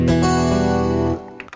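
Clean electric guitar preset from a keyboard's internal sound bank, a sustained strummed chord ringing steadily and loud, then cut off abruptly with a couple of faint clicks after.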